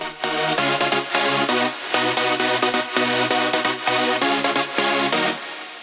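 Layered supersaw synth chords drenched in reverb, built in FL Studio for a festival mainstage break, play as loud rhythmic stabs with brief gaps between the sustained chords.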